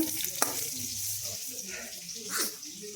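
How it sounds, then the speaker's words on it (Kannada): Green chillies and cumin frying in a pan, a steady close sizzle with a sharp utensil tap and light stirring scrapes, under a speaking voice. "ಸ್ವಲ್ಪ ಮೆಣಸಿನ್ಕಾಯಿ ಹಾಕೊಂಡು ನೋಡ್ರಿ ಸ್ವಲ್ಪ ಫ್ರೈ ಮಾಡ್ಕೋಬೇಕು"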